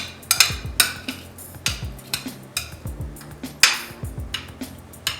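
A utensil clinks and scrapes repeatedly against a baking dish while baked feta pasta ingredients are mixed with fresh ground black pepper. The knocks are close and irregular, with no talking.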